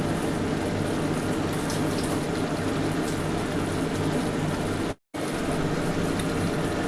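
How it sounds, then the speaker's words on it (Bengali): Water pours into a pressure cooker of fried-down chicken curry, a steady close rushing splash that runs almost without pause, breaking off briefly once before continuing. "এবার আমি কিন্তু জল দিয়ে দিচ্ছি।"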